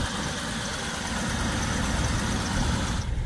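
A 1948 DeSoto Deluxe with Fluid Drive idles on its original, never-opened factory engine, a steady low rumble with even vibration, close and continuous, easing off slightly at the very end.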